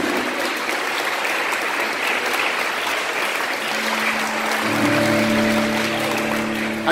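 Sustained applause from an audience at a church youth rally fills the whole stretch, steady and fairly loud, with a few voices calling out toward the end.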